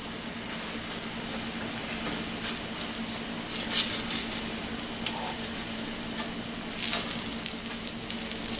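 Pizza base dough made without yeast sizzles and fries steadily in a hot pan on a stovetop, a continuous crackling hiss with a few brief louder pops, close by and alone.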